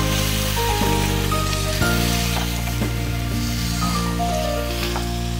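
Marinated chicken sizzles in a hot pan for oil-free dry roasting in a Bengali chicken curry, a steady frying hiss running under background music.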